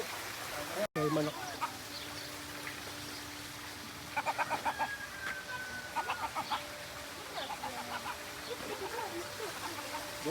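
Chickens cluck faintly on a farm in short bursts against quiet background noise, with a brief thump near the start and people talking nearby.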